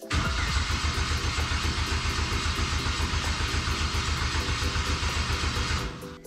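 Ecotec engine swapped into a Miata cranks steadily without firing, a loud, even, rhythmic starter churn with no catch, running for about six seconds before stopping abruptly.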